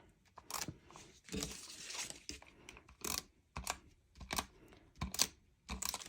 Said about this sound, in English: I'm just going to add tape just right along the inner edge of this.